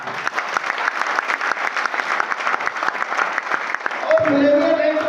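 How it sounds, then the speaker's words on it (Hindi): A hotel hall audience at a business meeting breaks into loud sustained applause, dense clapping throughout, with a voice and a musical tone rising over it in the final second. "जोरदार तालियां दीजिए"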